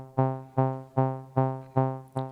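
Six evenly spaced plucky synth notes from a modular setup, a Bloom sequencer driving a Chord oscillator, each tone rich in stacked harmonics with sharp attacks and smooth decays, played alone at a steady pace.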